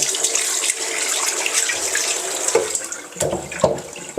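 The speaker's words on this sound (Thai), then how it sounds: "ใช้ฟอง น้ำธรรมดานี้นะคะ ล้างน้ำก่อนให้สะอาด" An iron wok rinsed under running tap water with a plain sponge, a steady splashing stream with scrubbing and sloshing strokes close by, no talk.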